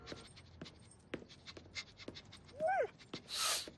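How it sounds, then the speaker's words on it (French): A tracking dog pants in quick, breathy bursts close by, with a short whine partway through and a louder huff near the end. "c'est mon chien pisteur"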